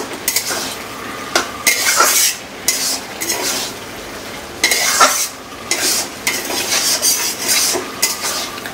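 Banana-flower filling spiced with onion, garlic and green chilli being sautéed in a pan, with loud bursts of spatula scraping and clattering against the metal between short quieter sizzling gaps.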